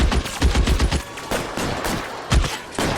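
Gunfire in the video game LA Noire comes as loud, close volleys of rapid shots in bursts with brief gaps between them, and no voices are heard.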